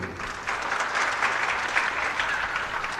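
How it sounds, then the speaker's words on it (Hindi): Audience at a spiritual discourse by a saint clapping on request, a dense, steady round of applause that starts after a short lead-in and holds evenly throughout. "एक बार ताली बजा दीजिए इनके लिए।"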